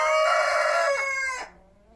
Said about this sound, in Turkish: sohbet bile edilmiyor yani horoz bolluğundan.